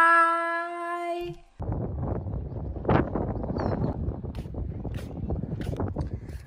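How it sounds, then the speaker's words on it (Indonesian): Strong outdoor wind buffets the microphone in a continuous rough, gusty rumble, following a short opening of tonal music. "karena ini berangin sekali"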